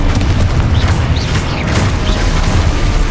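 Confringo explosion spell going off in the Hogwarts Legacy video game, a loud, dense booming blast with rumbling low end that sustains for about three seconds, with brief whooshing accents on top.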